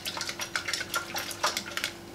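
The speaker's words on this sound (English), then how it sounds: "I'm gonna give that a nice whisk." Eggs are whisked in a bowl for quiche, producing quick rhythmic light clinks and scrapes of a whisk against the bowl, quiet and close.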